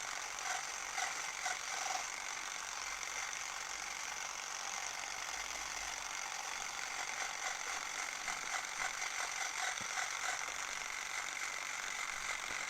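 A Klixer dreadlock machine punches lightly in and out of straight hair, giving a steady, fast mechanical ratcheting clatter that runs continuously at close range with no talking.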